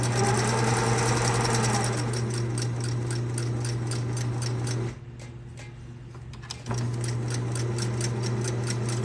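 A home sewing machine stitches steadily with a stitch foot, giving a loud, even mechanical whir and rapid ticking. The motor briefly drops to a quieter hum and then resumes at full speed.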